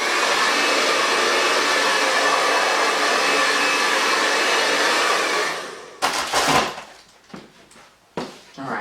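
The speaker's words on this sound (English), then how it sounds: "now I'm gonna get my blow dryer on low heat and I'm gonna blow dry this" Blow dryer on low heat drying a drag queen wig, a steady close rushing whir that cuts off abruptly, followed by a few scattered knocks and handling sounds.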